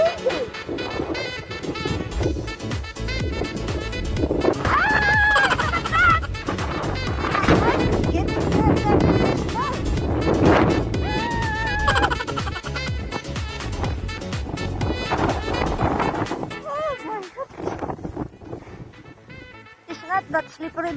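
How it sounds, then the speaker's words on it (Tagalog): Strong wind blows during a Saskatchewan snowstorm, roaring and buffeting the microphone almost without pause for the whole stretch, easing near the end. A voice is heard in places under the gusts. "It's just so windy and cold."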